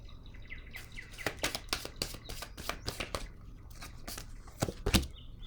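Oracle cards are shuffled by hand in quick bursts of crisp riffling slaps, close and fairly loud, with a few short pauses and a sharper final flurry as one card is drawn.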